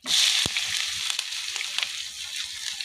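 Chopped onion goes into hot oil already holding bay leaf, cinnamon and cardamom for a pigeon dopiaza, starting with a loud burst of sizzling that settles into a steady, close crackle with a few stirring clicks.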